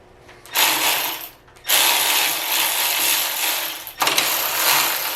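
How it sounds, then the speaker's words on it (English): Obstruction wrench clicking on a lower nut during teardown of a Mercedes M100 6.3 engine; steady close ratcheting in long bursts with two short pauses, no talk. "I've got an obstruction wrench just to wrap around and grab hold of this lower nut here"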